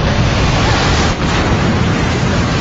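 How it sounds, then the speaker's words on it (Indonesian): Large ocean waves crash and sweep over a group in a One Piece anime scene from the Water 7 arc, a loud, continuous roar of surging water with no break. "ombak yang lebih besar dari yang mereka perkirakan dan bahkan menyapu mereka"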